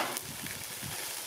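Steak fries in hot oil on a grill, a close, steady hiss and crackle of sizzling with soft pops, heard alone without talk.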